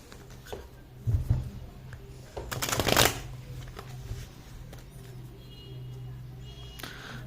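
A deck of tarot cards is shuffled in a quiet room, with a brief burst of riffling near the middle and softer handling sounds around it.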